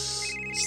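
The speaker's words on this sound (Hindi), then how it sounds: "इस कुमार को भी अभी फोन करना था।" A phone ringtone for an incoming call chimes in a short run of bright, repeated electronic tones, fairly clear against a quiet room background.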